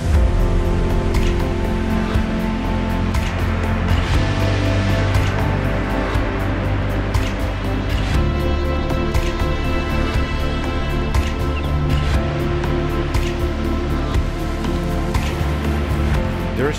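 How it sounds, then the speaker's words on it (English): Steady, dense roar of rushing water filling the whole clip, loud and unbroken, from a nearby waterfall in Kosovo. "I think I'm getting closer to the waterfall now"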